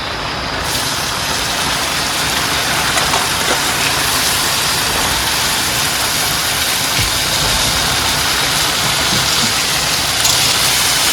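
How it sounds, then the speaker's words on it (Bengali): Heavy rain pours down outside a boat in the Sundarbans mangrove forest, a loud, unbroken roar of downpour that fills the whole stretch. "বাইরে পুরো একদম ধামাকাদার বৃষ্টি শুরু হয়ে গেছে"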